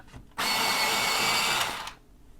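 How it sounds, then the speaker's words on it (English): A colored pencil point sharpened in a small electric sharpener, a single close whirring grind of about one and a half seconds that starts abruptly and tapers off, alone without talk. "I'm going to sharpen that point."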